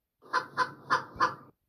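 A chicken clucks four times in an even, steady rhythm, each cluck short and fairly loud, close by with no other sound around it.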